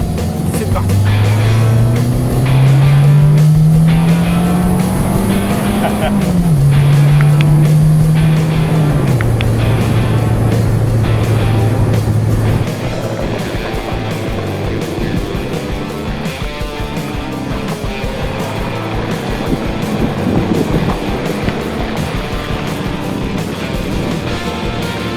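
A 1982 Renault R5 Alpine Turbo engine pulls hard with its pitch rising through the gears and a brief dip at each shift, then settles into quieter cruising road noise.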